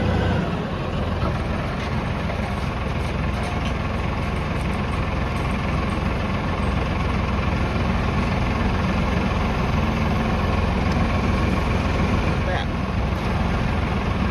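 A tractor engine runs steadily at low revs while pulling old fence posts out of a pasture, a continuous heavy rumble throughout with people talking over it.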